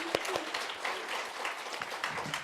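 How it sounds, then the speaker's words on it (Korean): Quiet applause from a church congregation giving glory during a sermon, a fairly faint patter of many hands with a few sharper individual claps standing out, heard at a modest distance. "우리 하나님께 영광의 박수를 다시 한번 올려드립니다."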